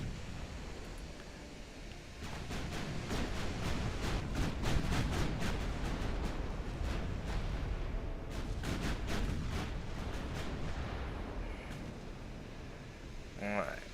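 Naval battle in Ultimate Admiral Dreadnoughts with continuous rumbling gunfire and booming artillery over a steady wash of sea noise, dense and sustained throughout, with a voice talking faintly underneath.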